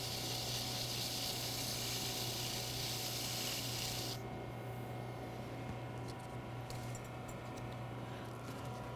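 A wooden Christmas ornament being sanded on a lathe gives a bright, steady rasping hiss for about four seconds that then stops, leaving the lathe's constant motor hum running alone.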